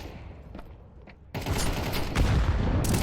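Gunfire crackles in a Counter-Strike match, starting with faint distant shots, then a sudden loud blast from a grenade followed by dense rapid firing that continues to the end.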